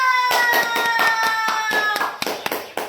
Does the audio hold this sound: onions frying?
no